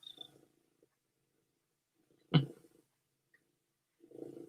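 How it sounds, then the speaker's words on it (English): Soft, low purring from a former barn feral cat comes in short rumbling bursts, quiet and close, with a brief louder rustle partway through. "She purrs. I don't know if you can hear that. Purrs constantly."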